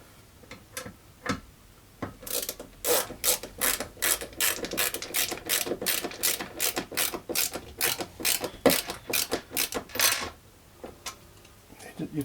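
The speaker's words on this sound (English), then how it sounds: "So now I can get my screwdriver," A screwdriver ratchets screws into a pre-drilled wooden baffle for a small open-baffle speaker, giving a rapid run of sharp, close clicking bursts after a few scattered clicks, with brief pauses between turns.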